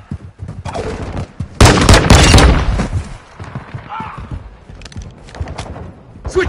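Gunfire in a first-person shooter video game: a loud dense burst of rapid shots in the middle, with scattered quieter shots and game noise around it.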